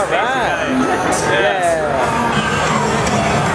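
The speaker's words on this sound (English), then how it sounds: "This is a crowd." Dense crowd at Halloween Horror Nights Hollywood, a nighttime theme-park horror event, fills the air with loud continuous babble, shouts and scattered whoops, with nearby voices talking over the steady roar.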